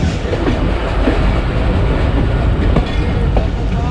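The Zakaria Express rolls into Gele Wala railway station on the loop line with loud, continuous wheel rumble and clickety-clack, heard from on board and close.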